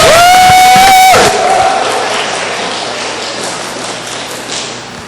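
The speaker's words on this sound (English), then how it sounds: "Would we give him a round of applause?" A round of applause from attendees at an arts council annual general meeting, breaking out after a loud sustained tone and fading gradually as the clapping thins out.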